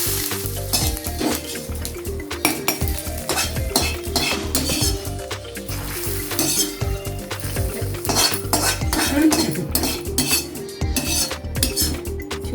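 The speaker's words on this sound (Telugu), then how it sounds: "ఇలా టప్ టప్ మన సౌండ్ వచ్చేంత వరకు మనం పోపు వేయించుకుని మజ్జిగ పులుసులో వేసుకోవాలి" Tempering spices for a buttermilk sour stew with amaranth leaves fry with a steady sizzle, punctuated by sharp pops and repeated clinks of a metal spoon stirring against the pan, close and continuous without talk.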